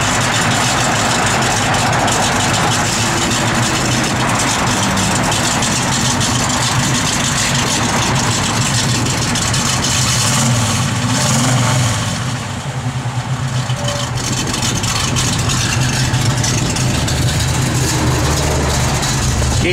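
A 1967 Chevrolet Camaro V8 idles steadily with a lumpy cam lope, a continuous close rumble running uninterrupted throughout with no talking over it.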